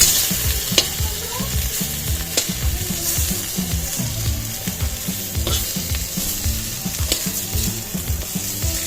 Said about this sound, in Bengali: আর হচ্ছে এখন পটল ভাজা আর বেগুন ভাজা